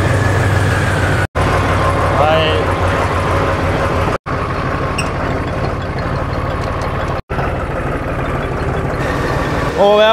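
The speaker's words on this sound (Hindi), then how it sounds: "हो गया भाई ट्रैक्टर स्टार्ट।" A tractor engine runs loudly and close in a steady, rumbling drone with brief cutouts, and a voice speaks faintly over it near the end.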